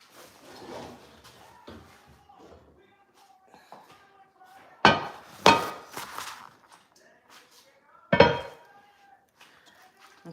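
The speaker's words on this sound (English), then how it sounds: "let me grab my cast iron skillet" Heavy cast iron skillet lifted and set down in a home kitchen, several sharp knocks and clanks around five to eight seconds between quieter handling rustles, close by.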